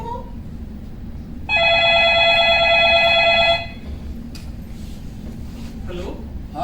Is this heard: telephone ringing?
yes